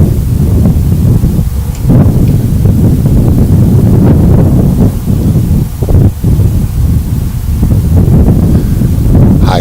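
Strong wind buffets the microphone across a boys' soccer field, a continuous loud rumbling roar with gusty swells and no clear breaks.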